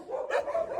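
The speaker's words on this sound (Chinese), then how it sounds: "给大家看看这些狗狗们的生活" A dog at a mountain home with hundreds of dogs gives a single short, close bark over a faint background whine.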